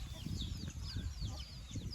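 Chickens cluck and chirp steadily on a farm, with thin high chick peeps repeating over a continuous low clucking murmur, close by and fairly loud throughout.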